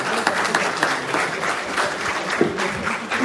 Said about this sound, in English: Let's have a big round of applause for all the teams first